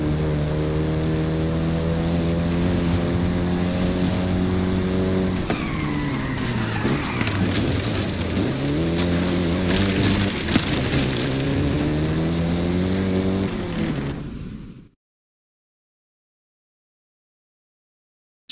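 A Volkswagen Golf GTI hot hatch driving in Forza Horizon 5, its engine droning steadily with a strong harmonic hum, rising and falling in pitch as it shifts and revs, loud and close, then cutting off abruptly.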